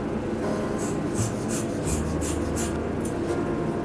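Scissors snipping through hair during a home haircut, a quick series of close, crisp cuts repeating at a steady rhythm for several seconds with no talking.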